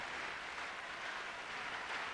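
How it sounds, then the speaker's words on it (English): A tennis crowd applauds steadily for Connors, a dense and even wash of clapping heard from a distance with no break. "The crowd encouraging Connors."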